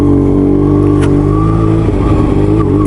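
A motorcycle engine hums and revs steadily at close range throughout a foggy ride, a continuous mid-pitched drone with slight swells in throttle.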